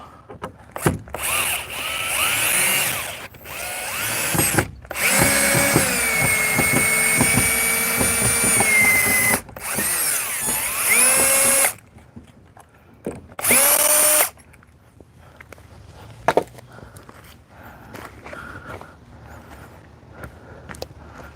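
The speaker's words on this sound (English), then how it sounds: "So I go slow when I'm unscrewing these because the last thing I want to do is chip out the heads." A power drill unscrews screws from a fence, with several separate whirring bursts of a few seconds each, close and loud, followed by quieter clicks and handling noises.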